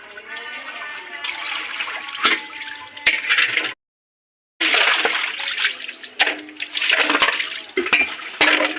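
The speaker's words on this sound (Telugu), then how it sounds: "బాగా పిసికి కడగాలి చూడండి ఫ్రెండ్స్." Food being washed by hand in water, with splashing and sloshing from squeezing and rinsing, plus a few sharp knocks, a short silent gap in the middle, then more vigorous splashing.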